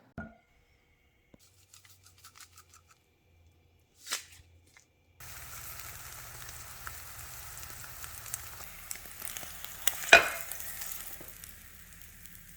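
Eggs with cheddar and Parmesan frying in butter in a pan give a soft, steady sizzle that starts partway through after a quiet stretch, with a brief louder crackle near the end.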